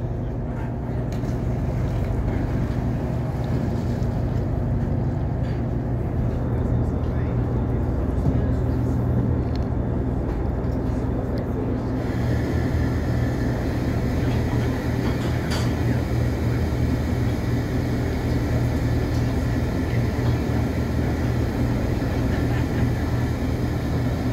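On a boat, a steady, loud mechanical drone of engine and hauling machinery runs without a break as a crab pot is pulled up.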